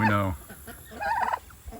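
A turkey gobbles on a farm, one loud rattling call up close at the start, followed by softer bird noises and faint background sounds.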